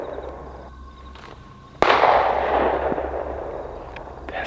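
A single sharp pistol gunshot, loud and fairly near, cracks once outdoors in the wilderness and trails into a long rolling echo over quiet ambient background.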